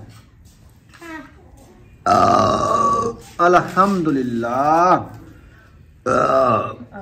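Loud close burps come after a home-cooked village meal of rice, mixing with a child's and an adult's voices talking and grunting in between.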